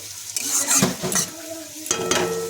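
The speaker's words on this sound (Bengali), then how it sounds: "আদা রসুন পেঁয়াজ কাঁচা লঙ্কাটা দিয়ে এবার একটু নাড়াবো" Ginger, garlic, onion and green chili sizzle in hot oil in a pan while being stirred, with scraping and clinking strokes of the spoon against the pan, close and fairly loud, no talk.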